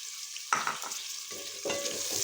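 Tomatoes dropped into a pan of frying potatoes for aloo sabzi, a brief burst of sizzle followed by a second hissing surge, close but fairly quiet with no voices.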